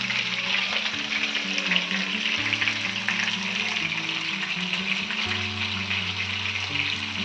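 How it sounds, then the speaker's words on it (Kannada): Fish sizzling steadily as it fries in a pan, a dense continuous crackle with occasional stirring and a low hum underneath, close and fairly loud throughout. "ಅಕ್ಕಿ ಮೀನು ಫ್ರೈ ಆಯಿತು"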